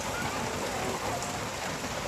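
Steady rain falling outdoors during a stormy spell while people cook, a dense even hiss of drops on surfaces, fairly quiet and constant throughout.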